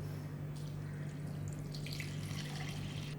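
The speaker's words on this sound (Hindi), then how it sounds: "इसमें हम 500 ml पानी ऐड कर देंगे" About 500 ml of water runs steadily into a pot of washed, half-hour-soaked rice, a continuous close pouring splash under a low steady hum, with no talk.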